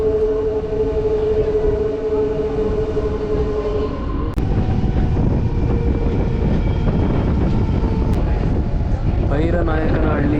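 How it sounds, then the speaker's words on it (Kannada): A passenger train on the Bengaluru line eases its speed near Bhairanayakanahalli station, giving a loud, close, continuous rumble with sustained whining tones over it and a couple of sharp clicks. "ಟ್ರೈನ್ ಯಾಕೋ ಫುಲ್ ಸ್ಲೋ ಆಗೋಯ್ತು ಗುರು."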